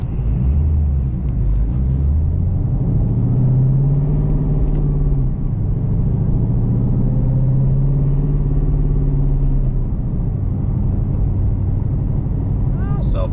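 Steady engine drone and road rumble from inside a moving 2017 Ford Mustang GT, continuous and fairly loud, with a voice talking over it.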